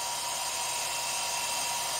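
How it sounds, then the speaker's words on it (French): Hair dryer blowing warm air through its diffuser attachment, a faint, even whooshing hum that stays constant throughout with no talking. "ce sèche-cheveux"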